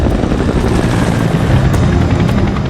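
A Chinook helicopter flies with a loud, continuous rotor roar and pulsing beat, dense low rumble dominating throughout with no voices.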